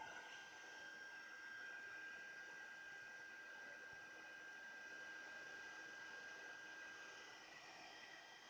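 A heat embossing tool blows hot air over a Christmas card in a steady, even, close whooshing hiss with a faint high whine, holding constant throughout with no talking.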